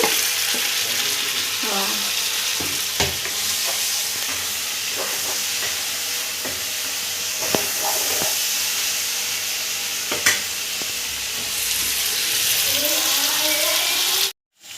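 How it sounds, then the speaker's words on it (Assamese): Goat meat and potatoes sizzle and hiss steadily in a pan in a home kitchen, a constant close frying sound with occasional stirring clinks, ending abruptly. "ভাজি আছোঁ আৰু দিছোঁ ভাজা হৈ গ'ল"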